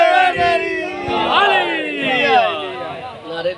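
Crowd at a Shia majlis in Chak Jogo, Sialkot, shouting religious slogans together, a loud continuous mass of voices throughout, close and dense.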